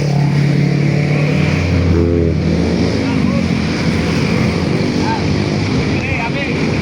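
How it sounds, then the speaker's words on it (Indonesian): A truck pulls in at a durian unloading spot, its engine rumbling steadily and loud up close with a gear-shift change early on, while people talk nearby. "Truk yang ketiga siap masuk."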